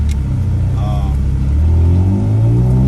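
A Nissan B15 Sentra SE-R Spec-V with a 2.5-liter, 180-horsepower engine and 6-speed manual gives a loud, steady cabin rumble, its pitch climbing toward the end as it accelerates, while a voice talks over it.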